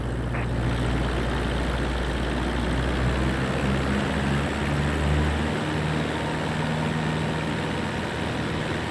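A propeller aircraft engine in Microsoft Flight Simulator runs at a steady, loud drone with low harmonic hum throughout, its pitch shifting slightly partway through as the throttle is changed.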